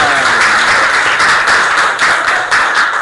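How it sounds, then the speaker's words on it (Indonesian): Students in a high school classroom clap their hands together, a loud, close burst of steady clapping with faint rhythmic accents and no talk. "Tepuk tangan."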